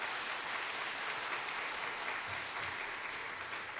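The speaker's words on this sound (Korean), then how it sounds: "우리 나오실 때 큰 박수로 맞이하겠습니다" Applause from a church congregation welcoming a visiting missionary pastor to the pulpit, a continuous broad wash of many hands clapping, steady and fairly distant throughout.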